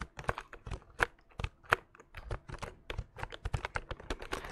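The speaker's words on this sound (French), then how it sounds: "Je kiffe à mort le bruit de ce clavier." Soft, rapid clicks and taps from typing on a membrane computer keyboard, irregular keystrokes in quick bursts with slightly heavier presses now and then, close and quiet with no voices.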